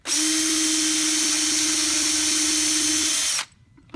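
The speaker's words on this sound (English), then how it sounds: "pre-drill the holes for the door" A power drill pre-drills screw holes in a hardwood door, giving a loud steady whine for about three and a half seconds before cutting off abruptly into quiet.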